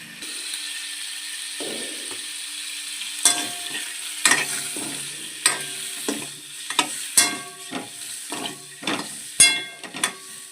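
Eggs frying in oil with chili powder in a pan, a soft sizzle broken by sharp, repeated clicks and scrapes of a spatula stirring and flipping, growing busier toward the end.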